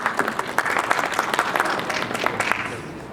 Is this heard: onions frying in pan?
no